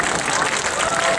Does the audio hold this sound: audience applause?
yes